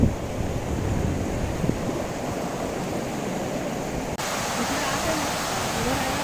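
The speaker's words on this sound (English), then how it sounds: "This is the closer look of the waterfall." Steady broadband rush of a hidden waterfall near Neral, Maharashtra, close and loud, with a constant roar filling the whole clip and no voices.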